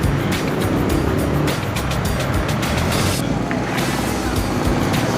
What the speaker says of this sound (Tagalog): Ayan, traffic dito.